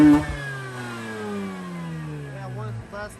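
Mazda RX-8 rotary engine, warmed up, revving high toward 9,000 rpm in a single sustained pull that climbs and then drops off, loud and close.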